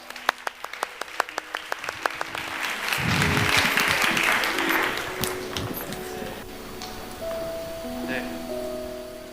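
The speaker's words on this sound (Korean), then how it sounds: "인사 올릴 때 같이 위로와 격려의 박수 부탁드립니다" A youth worship congregation at a church claps in encouragement, starting as scattered sharp claps, then swelling into a dense wash of applause that slowly fades as tones from instruments or a speaker enter.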